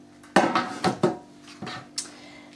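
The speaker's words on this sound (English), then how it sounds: "This is going to be put into the roasting pan" Granola being tipped into a metal roasting pan, producing a handful of sharp clanks and clattering knocks close by, spaced irregularly over a couple of seconds with quiet pauses between them.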